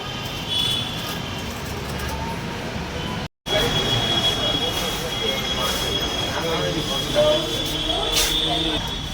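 Inside a Delhi metro station, a steady broadband rumble of a train with a high tonal whine and a brief squeal carries on under a voice that speaks now and then.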